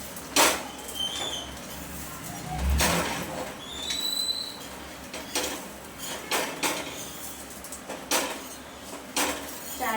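A thalipeeth flatbread of wheat and gram flour is turned on a hot pan, with intermittent scraping, tapping and metallic clinks of a spatula against cookware in a quiet kitchen.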